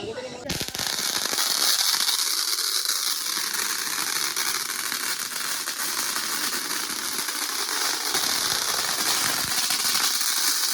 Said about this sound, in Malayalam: ഒരു പെണ്ണുങ്ങൾ കരയണ മാതിരി ഉണ്ട് ഈ പടക്കത്തിന്